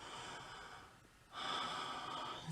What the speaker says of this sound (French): Elle prend une grande respiration.